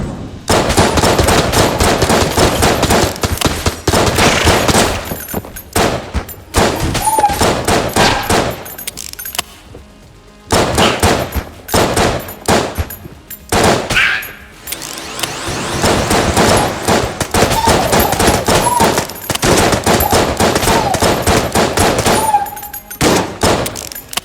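Rapid, loud gunfire from the Enter the Gungeon video game, including a trash-firing cannon, rattles in dense bursts with brief pauses, dominating the sound throughout.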